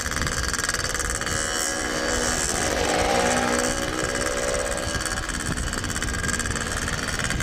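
A motorcycle engine idles steadily nearby at night, a constant rough hum with buzzing vibration and no change in pace.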